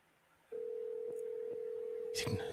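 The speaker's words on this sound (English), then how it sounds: "answer the phone, Ray" A telephone line on an outgoing call gives a steady, unbroken tone that starts abruptly after a brief quiet moment and holds to the end, with a short burst of noise and a voice near the close.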